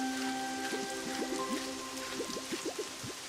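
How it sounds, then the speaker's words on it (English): Rain from a rain dance in the video game Pokemon Pokopia patters steadily and softly, with scattered light droplet plinks over a quiet, continuous wash of falling water and a faint musical background tone. "if you want it to rain, then you flip these dolls and then you summon a water Pokemon to do the rain dance"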